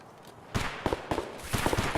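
Gunfire in Escape From Tarkov: after a quiet start, sharp reports and bursts fire in irregular clusters, moderately loud against a low background.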